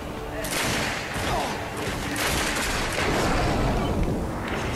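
Pistol gunfire in the video game The Darkness II, dense repeated shots and bursts filling the whole stretch at steady loudness, with some talk mixed underneath.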